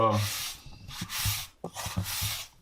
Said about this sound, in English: get as much grout forced into as many places as you can